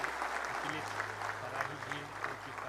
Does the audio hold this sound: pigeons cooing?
no